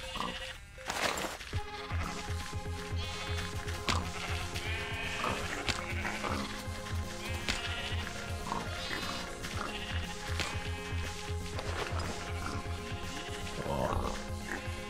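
Minecraft sheep bleat again and again among farm animals in the game, with background music and other animal sounds running throughout.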